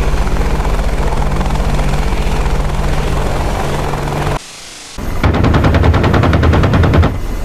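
AH-64D Apache helicopter firing its 30mm chain gun in DCS World, with a steady, loud rotor and engine drone under rapid, rattling bursts of cannon fire and a brief cut in the sound partway through.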